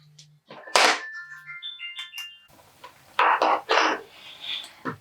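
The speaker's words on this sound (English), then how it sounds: "My phone's in there just ringing" A phone ringtone plays in another room, its melodic tones clear but somewhat muffled, with rustling handling noise and a few louder bursts around it.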